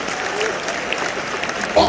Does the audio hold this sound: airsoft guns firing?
no